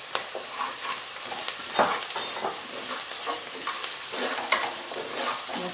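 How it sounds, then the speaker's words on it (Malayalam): Sliced onions fry in a pan with salt added, giving a continuous close sizzle broken by scraping stirs and small clatters from a spoon against the pan. The stirring comes in irregular strokes, and no voices are heard. "ഉള്ളി വേഗം മൂത്ത് വരാനായിട്ട് നമുക്ക് കുറച്ച് ഉപ്പിട്ട് കൊടുക്കാം."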